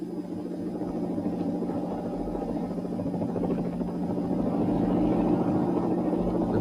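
A helicopter drones steadily as it flies over ice-laden high-voltage cables during the 1963 Big Freeze, a constant low rumbling hum held at an even level throughout with no voices.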